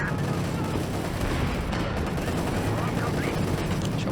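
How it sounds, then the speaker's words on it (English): Anti-tank gun fire and battle noise in Company of Heroes 2, a dense, continuous rumble of gunfire and explosions with a sharp pop near the middle. "AT gun gets a nice little pop"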